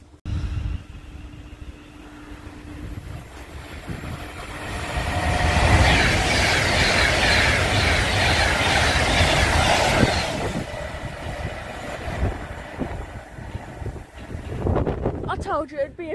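An Avanti West Coast Pendolino train passing through Rugeley Trent Valley station, building from a distant approach to a loud sustained roar and rumble, then fading with rail clatter and a faint squeal as it departs.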